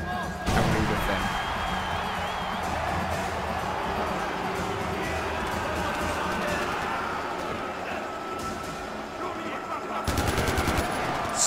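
Gunfire in the first-person shooter Far Cry 4, with sustained rapid automatic bursts and scattered shots running throughout, loud and dense over game ambience, with a sharp flurry near the end; a voice talks over it.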